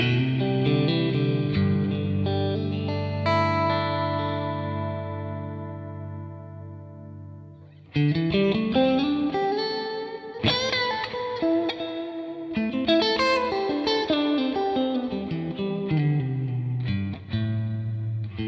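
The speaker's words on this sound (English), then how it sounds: "my favourite reverb pedal that I've ever tried is this Universal Audio DelVerb" Electric guitar played through a Universal Audio DelVerb reverb pedal, sustained chords ringing into a long washy reverb tail, then a busier strummed and picked passage with heavy ambience, loud and alone with no voices.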